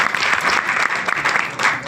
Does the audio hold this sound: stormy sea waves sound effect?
no